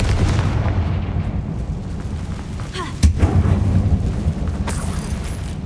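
The Confringo fire spell explodes in the video game Hogwarts Legacy, with a loud, rumbling low boom bed and a sharp blast hitting about midway before the rumble carries on.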